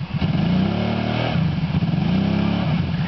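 A Kawasaki Brute Force ATV engine revs loudly up and down in mud while a wheel fails to pull, the motor droning and rising in close, continuous bursts.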